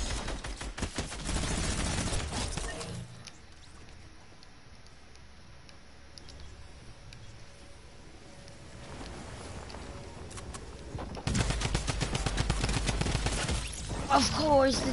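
Rapid bursts of Tommy gun fire in a PS4 shooter, a dense crackling volley at the start and again near the end, with a quieter lull of ambient game noise between.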